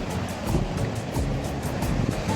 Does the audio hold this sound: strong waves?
yes